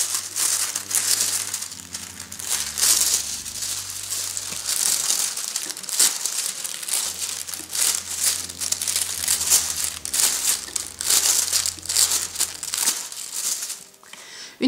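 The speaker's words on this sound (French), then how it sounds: "vous allez reprendre votre feuille et vous allez simplement la repasser comme ceci sur les motifs de façon à bien imprimer partout" Paper rubbed by hand over patterned motifs to print them onto the sheet for a Christmas candle-holder decoration, heard as continuous crinkling and scraping strokes with short pauses, close and fairly loud, with low music underneath.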